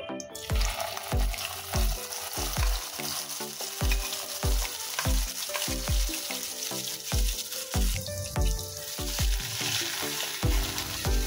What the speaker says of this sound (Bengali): এবার আগে থেকে কাঁচা লঙ্কা, পেঁয়াজ আর চাল মগজ যেটা বেটে রেখেছিলাম সব দিয়ে দেব।